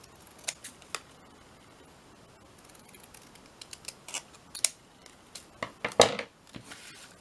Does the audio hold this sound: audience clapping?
no